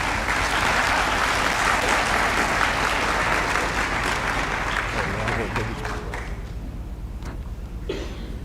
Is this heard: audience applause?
yes